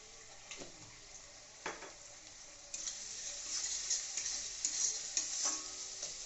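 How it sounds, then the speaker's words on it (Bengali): Ground coriander and cumin are stirred into a frying rohu fish curry, producing a quiet sizzle that grows louder midway, with a few scraping strokes of a spoon against the pan. "মশলাটাকে ভালো করে মাখিয়ে নেওয়া হচ্ছে"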